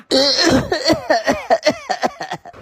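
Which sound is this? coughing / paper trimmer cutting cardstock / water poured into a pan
coughing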